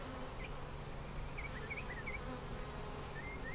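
Honeybees buzzing around an open hive with a yellow queen, a soft continuous drone with a few individual bees whining past, fairly faint against low background noise.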